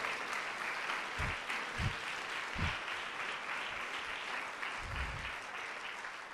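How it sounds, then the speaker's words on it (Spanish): A church congregation gives a steady, fairly distant round of applause during a sermon, dense clapping from many hands sustained throughout with a few low thumps underneath. "Denle un aplauso."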